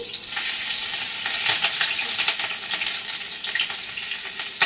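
Chopped green chili fries in hot oil in a wok, producing a loud, continuous close sizzle with crackling bursts and occasional stirring scrapes.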